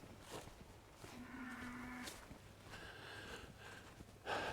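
Cattle out in a field low one after another, the moos near and clear over a quiet outdoor background.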